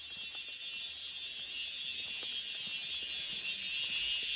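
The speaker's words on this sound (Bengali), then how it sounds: "এটা কিন্তু ঝিঝি পোকার আওয়াজ।" Crickets chirp loudly on Reiek Hill in Mizoram, a dense, steady high-pitched trill that holds unbroken and close throughout, with no voices.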